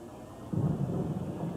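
Thunder rumbles low and heavy as a sound effect in a local TV storm-team weather forecast advert, a deep swelling roll that builds partway through and holds.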